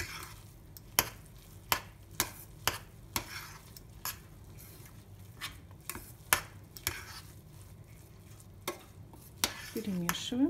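Salted buckwheat porridge stirred in a pot, regular spoon scrapes and taps against the pot's side over a soft, low simmer, close and fairly quiet.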